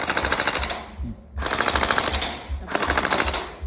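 An electric gel blaster AKM47 with metal parts, running on an 11.1 V battery, fires three rapid full-auto bursts, each a loud, close, fast mechanical rattle separated by short pauses.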